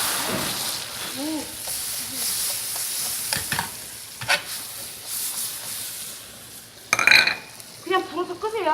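Soy sauce flaring in hot oil in a wok while making scallion fried rice, a constant loud sizzle and roar with stirring scrapes, metal clinks and a sharp burst of flame, with a voice talking over it.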